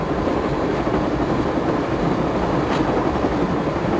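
A train moving in the Broken Sword adventure game, a loud, steady rumbling roar with dense rolling noise and no clear individual clacks, unbroken for the whole stretch with no speech.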